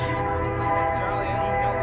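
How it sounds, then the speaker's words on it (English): A train passes near a baseball field during a game, giving a steady, sustained tonal drone like a distant horn or rumble that holds at moderate loudness through the short stretch. "we got a train coming"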